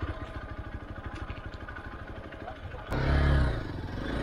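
A motorcycle engine putters close by with a steady rhythmic chug, then a louder burst of revving near the end, with a voice talking over it.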